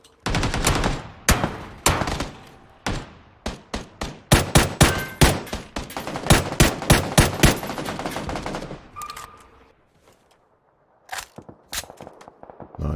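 Rapid gunfire from the sci-fi game Occupy Mars: sharp, loud shots in quick irregular bursts and volleys, close up, then a brief quiet stretch before a few more scattered shots near the end.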